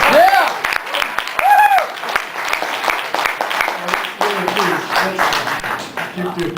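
Applause and scattered clapping ripple through a crowd at a public forum on a football stadium project, loud and close, with cheering voices and talk mixed in.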